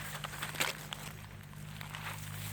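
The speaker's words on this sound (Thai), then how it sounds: "อันนี้เสียงรถไถอยู่พ่นอยู่ไกลๆครับ" A low, steady engine drone hums faintly in the distance, like a far-off tractor, with light rustles and crackles of footsteps nearby.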